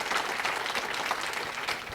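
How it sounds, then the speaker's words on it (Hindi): An audience in a hall at an anniversary event breaks into loud, sustained clapping, a dense wash of many hands that carries on steadily throughout. "मैं चाहूँगा एक बार अपने लिए एक ज़ोरदार ताली आप बजाएं"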